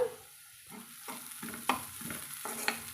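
Ivy gourd flowers and tender young gourds being stirred in a pan as a stir-fry, with a soft low sizzle and several scraping stirs spaced through the moment, close and fairly quiet, no voices.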